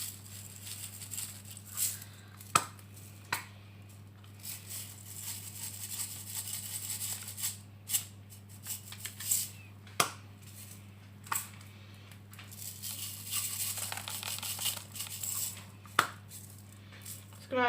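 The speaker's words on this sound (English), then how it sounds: "I'm just going to sprinkle a few different ones on each of them, just like this." Several kinds of sprinkles are scattered onto chocolate balloon bowls, producing sparse, faint pattering ticks and occasional sharper clicks spaced over a quiet background with a low steady hum.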